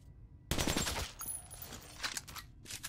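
Automatic weapon fire in the video game Metro 2033 erupts suddenly after a quiet moment, with loud, close, rapid bursts that continue in uneven volleys and brief pauses.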